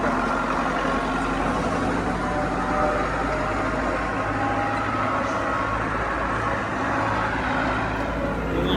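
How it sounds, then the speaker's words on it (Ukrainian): New tractor working with a Galtech front-end loader, its engine running as a steady, dense rumble throughout, fairly loud and continuous with no speech. "Треба дивитися, то трактор."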